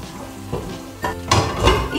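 Sizzling and scraping in a frying pan as a sauce for gnocchi is stirred, with a few louder clinks of a utensil against the pan.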